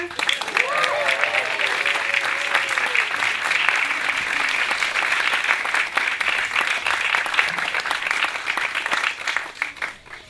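A crowd at an outdoor celebration marking John Fitzgerald Kennedy's 100th birthday at his birthplace claps and cheers steadily, with a few whoops and voices rising over the dense applause throughout.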